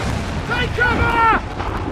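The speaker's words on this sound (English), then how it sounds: "Incoming fire! They're firing!" Artillery and gunfire explosions in a battle in the Assassin's Creed III video game: a dense, continuous rumble of booms and blasts with raised, shouting voices over the din.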